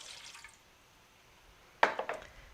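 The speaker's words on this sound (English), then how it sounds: "So I'm going to put the water in." Water splashes into an Instant Pot in a short burst near the end, a sudden pour with a couple of follow-up splashes after a quiet stretch of faint room noise.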